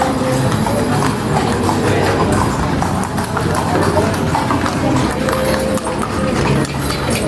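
Horse hooves clip-clopping on the stone street of Calle Crisologo in Vigan, Ilocos Sur, a steady rhythmic clatter close by under busy street noise and murmured voices.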